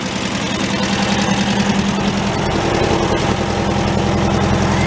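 Engine of a Volkswagen tractor idling loud and close, a steady low rumble with even vibration and a slight knocking pulse throughout.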